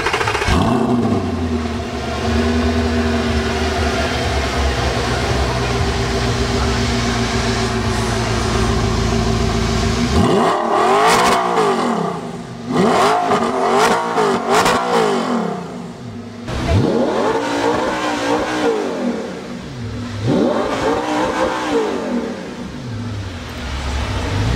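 A car fitted with an Akrapovic exhaust idles with a steady low rumble, then is revved repeatedly, each blip rising sharply and falling back in loud, close sweeps.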